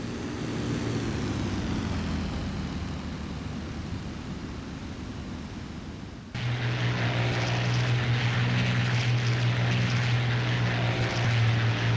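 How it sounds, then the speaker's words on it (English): Stuka dive bombers and their escort aircraft fly past, a steady roar of propeller engines that suddenly swells louder and deeper as a closer aircraft passes, droning on to the end. "The escort and then the Stukas headed for home."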